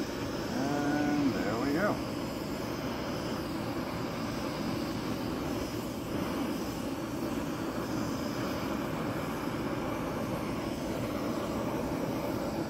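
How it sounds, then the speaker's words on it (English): Gas camp stove burner lit and roaring steadily at close range, a constant broadband rush lasting the whole stretch, with someone briefly speaking at the start. "the first thing we're going to do here to get this going is turn the gas on"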